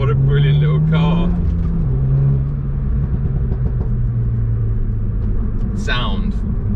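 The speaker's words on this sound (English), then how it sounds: "Makes such a good sound. I can't imagine this has got any OPF or particulate filters in it, because the amount of pops you get out that exhaust are just" Renault Mégane Trophy R hot hatch driven on a dry road, its engine droning steadily throughout with a loud nearby exhaust note, as someone talks over it continuously.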